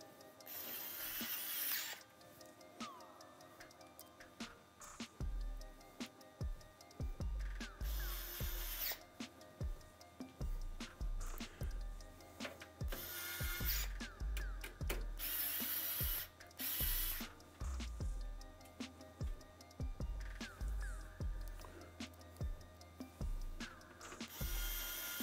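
A powered screwdriver drives screws into a Phanteks P500A PC case during a computer build, giving repeated short whirring bursts with brief pauses between screws, close and fairly loud.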